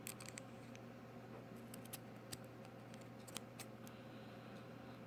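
Small scissors snip cotton wick on an RDTA vape atomizer, a few quiet, crisp clicks scattered over a faint, steady room hum.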